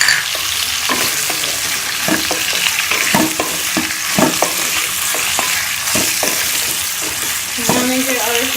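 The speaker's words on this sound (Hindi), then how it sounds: "इसी के बाद मैं ये सफ़ेद ज़ीरा इसके अंदर डाल दूंगी।" White cumin seeds and potatoes frying in a pan, a steady loud sizzle broken by repeated sharp stirring scrapes and clinks throughout.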